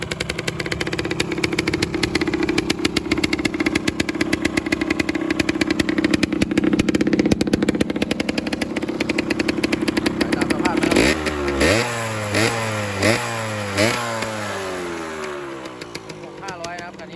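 A Yamaha DT125 two-stroke motorcycle engine runs with a loud, rapid, rattling idle. It then revs up and down in several sharp sweeps before settling back, with a voice speaking over it.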